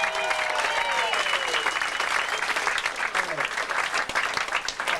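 An audience at a live music performance breaks into energetic applause with cheers and whistles, a busy, close crowd sound that stays strong and slightly uneven throughout.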